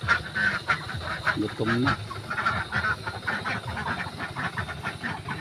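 Ducks (itik) calling at a backyard duck pen in a Philippine province, with repeated honking quacks throughout, mixed with people talking nearby.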